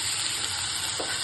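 Fish sizzles and crackles in hot oil in a pan with masala, a dense continuous frying hiss with no voices.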